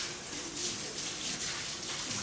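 Sandy vegetables are swished and rinsed in a container of water, giving a steady close wash of splashing and trickling water with no talking.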